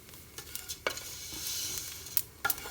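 Vermicelli is stirred and browned in a pan for a milk pudding, with a soft sizzle under sharp intermittent scrapes and taps of the spoon against the pan.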